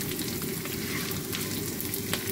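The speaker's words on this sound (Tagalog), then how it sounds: "Fry natin ang small na danggit." Small dried danggit fish fry in hot oil with a dense, continuous crackling sizzle, close and fairly loud, no talking.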